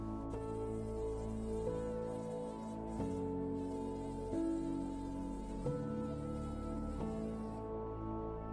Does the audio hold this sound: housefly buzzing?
yes